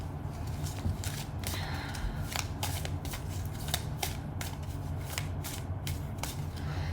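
Gabrielle Bernstein Spirit Junkie oracle cards being shuffled by hand: a close, continuous riffle and flutter of card edges with repeated crisp slaps, steady throughout and with no talking.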